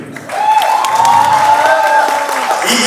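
Audience applause at a Malayalam film audio launch event, clapping swelling after a quiet start into a loud sustained burst, with a drawn-out tone from a voice or music riding over it.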